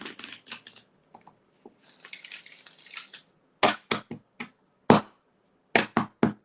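A deck of tarot cards is handled and shuffled up close, with a soft riffling flutter in the middle between sharp, separate taps and slaps of the cards, and no talking.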